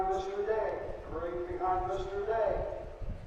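Harness racing horses clip-clop at a county fair track before a race for two-year-old gelding pacers, their hooves under steady nearby talk from an announcer or crowd.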